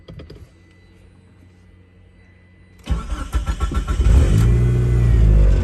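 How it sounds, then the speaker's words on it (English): After a quiet pause, a car engine cranks with rapid chugging and catches, then settles into a loud, steady running rumble nearby. "I'll turn the car on."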